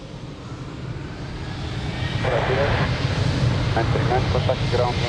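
An airliner takes off from runway 02 at Lisbon Airport, its engine roar swelling steadily from a low rumble to a loud sustained thrust noise, with a voice heard over it.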